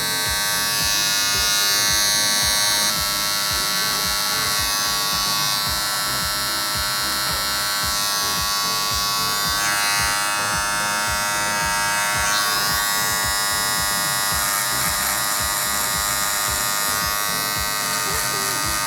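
Electric hair clippers buzz steadily and loudly throughout, cutting hair lightly with only the corner of the blade, held close during a razor-cut haircut demonstration, with a faint voice underneath.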